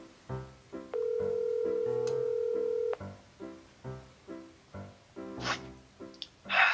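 Phone call on a cellphone: a short run of keypad tones, then a steady two-second dial or ring tone, followed by a repeated rhythmic ringing pattern and a brief burst of noise near the end, with no talk.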